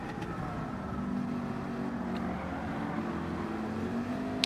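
A Ford GT40 engine in the video game Gran Turismo 7 drones and revs steadily, with shifting tonal whine over a continuous low rumble; no talking.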